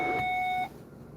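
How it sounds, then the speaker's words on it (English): A diesel vehicle's warning alarm beeps as a steady, loud electronic tone for about half a second, then cuts off abruptly. "Don't worry, false alarm."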